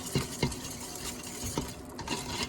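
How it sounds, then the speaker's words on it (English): A whisk stirring salt into an apple juice mixture in a bowl, with several distinct taps and clinks against the bowl over a soft continuous swishing, close up and fairly quiet. "Now, we're going to whisk this up."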